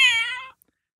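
A cat gives a single clear meow, close and fairly loud, lasting about half a second before quiet.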